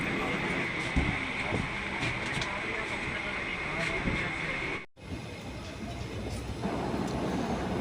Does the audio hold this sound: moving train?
yes